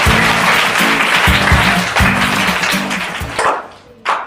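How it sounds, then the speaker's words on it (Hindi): A live audience at a Kaun Banega Champion quiz game show breaks into loud, dense applause, with a low rhythmic music beat pulsing underneath before the clapping fades and a final short burst sounds. "जोरदार तालियां हो जाए भाई।"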